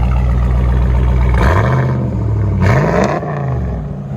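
A RAM Power Wagon with a 6.4L HEMI V8 and straight pipes idles loudly up close, then revs twice, its deep exhaust note rising and falling each time before settling back to a rumbling idle.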